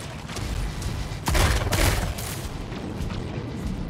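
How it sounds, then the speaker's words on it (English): Rocket mortar blasts burst in a competitive shooter match, a loud boom at about one and a quarter seconds with a second burst soon after, over steady dense gunfire and battle noise. "That's a rocket mortar!"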